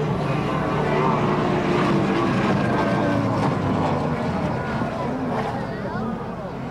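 A racing powerboat engine opens up on the straight during a powerboat race, a loud sustained roar with steady harmonic drone across the whole stretch while a voice speaks over it.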